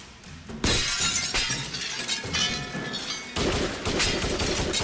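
Glass window being smashed out during a police shooting response: repeated loud crashes of shattering glass and crunching shards, several sharp impacts spread over a few seconds, close and dominant with no speech.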